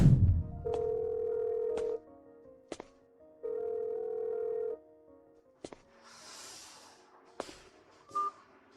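A telephone line plays long steady tones in two bursts, separated by clicks, followed by brief beeps and noisy crackle, with no voices.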